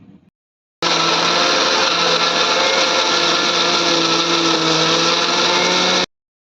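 A kitchen mixer grinder runs at full speed grinding freshly grated coconut, a loud steady whir with a constant motor pitch that starts abruptly after a brief moment of quiet and cuts off sharply near the end.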